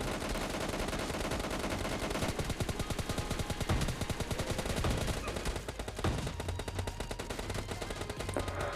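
Dense, rapid bursts of automatic gunfire come from a PUBG Mobile Lite match, with loud shots firing almost continuously and a few heavier reports mixed in.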